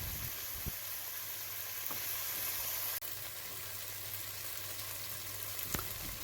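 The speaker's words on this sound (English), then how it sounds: "just keep on stirring so that it cannot get stuck or burnt, because we are dealing with sugar here" Butternut caramelizing with sugar in a pan gives a steady, even frying hiss. A few sharp spoon knocks stand out as the stirring continues.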